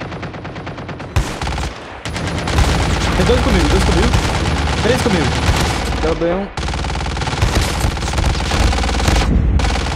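Rapid automatic gunfire and single shots from a COD Mobile battle royale match, loud and sustained with bursts throughout, while players talk over the action.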